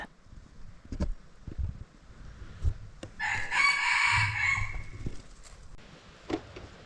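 Rooster crows once at moderate distance outdoors, a loud, drawn-out call amid quiet rustling and scattered small knocks.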